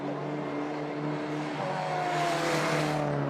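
Touring race cars, including Lamborghini, Audi and Honda entries, circling the track at a Baltic Touring Car Championship event, engines droning steadily and rising as one car comes past, with no talking.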